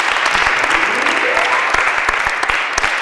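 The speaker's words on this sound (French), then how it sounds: "On va s'applaudir très fort." Loud audience applause at the close of a choir broadcast, with dense, continuous clapping and a few sharper claps standing out, carrying on at full strength without any speech.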